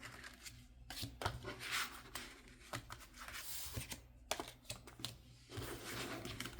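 Playing cards drawn and handled from a deck at close range, a run of soft papery flicks, slides and taps scattered irregularly through a quiet room with no voices.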